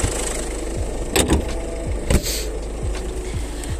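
A 2017 Peugeot 308 1.6 HDi diesel engine idles steadily with a low, even rumble, close up, interrupted by a couple of brief clicks and knocks.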